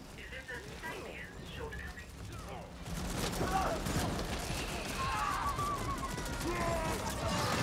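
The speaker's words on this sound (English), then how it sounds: "I found the minigun." Minigun firing in the co-op video game The Ascent: after about three seconds a dense, continuous roar of rapid gunfire starts and holds steady to the end, with game effects and chatter mixed around it.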